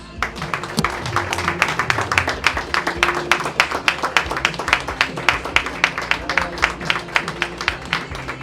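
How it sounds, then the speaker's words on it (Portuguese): A church congregation claps together in rhythm, sharp evenly spaced hand claps forming a steady beat over a low background murmur, moderately close throughout. "Vamos aplaudir o Senhor Jesus."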